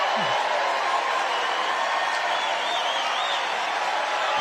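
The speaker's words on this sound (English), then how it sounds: "Why are they cheering?" A large political rally crowd cheers in a steady, dense roar that holds at an even level throughout, distant and diffuse with no single voice standing out.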